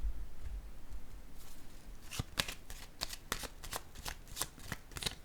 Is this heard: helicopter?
no